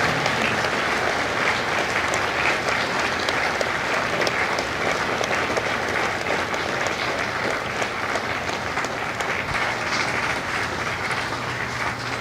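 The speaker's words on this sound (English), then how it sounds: "a round of applause for their dedicated service to Corps and country." Loud, sustained applause fills a Marine Corps recruit graduation at MCRD San Diego as the crowd honors Marine veterans, a thick unbroken roar of clapping lasting over ten seconds without talk.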